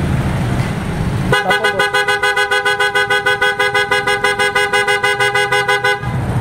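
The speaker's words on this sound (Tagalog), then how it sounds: "na-install kami mga boss na auto style horn EIAA dito sa Honda Jazz" An aftermarket PIAA auto-style car horn on a Honda Jazz blares in a rapid, warbling pulse for several seconds, loud and close, over a low idling background before cutting off.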